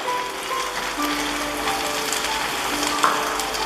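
Chopped onion and capsicum sizzle and fry steadily in a hot pan while a Gobi Manchurian is being made, a continuous, fairly loud crackle with small pops and no talking.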